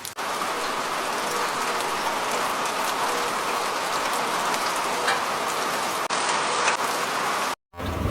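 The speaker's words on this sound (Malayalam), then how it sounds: "ഇതിന്റെ ഇടയ്ക്ക് മഴയും." Steady, dense rainfall pours down continuously at close range, a loud even hiss with no voices, cutting out briefly just before the end.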